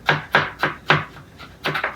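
A knife chops rapidly on a cutting board, mincing vegetables for southwest stuffed burgers, with about six crisp close strikes in quick irregular succession and a short pause between them.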